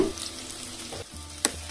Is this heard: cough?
no